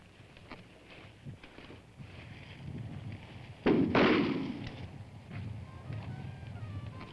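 A single sharp gunshot cracks out during a hunt, loud and close against faint wind and outdoor background, with its report trailing off over the following second.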